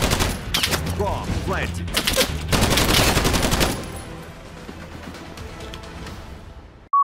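Rapid bursts of shotgun and other gunfire in the World War II shooter game Battalion 1944 crack loudly for several seconds, then fade into quieter game ambience while a voice briefly announces an in-game event.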